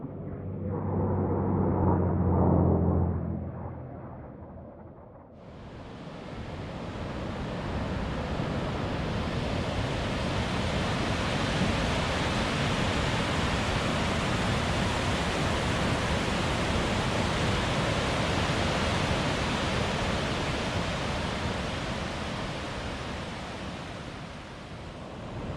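The Smith River near flood stage roars over a big waterfall: a dense, steady broadband rush that swells in loudly after a brief murmur of talk at the start and holds unbroken to the end.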